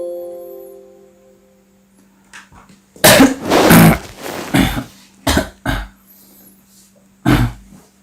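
Several harsh coughs close to the microphone, a loud burst cluster around the middle followed by a few shorter separate coughs, in a quiet room with a faint steady hum.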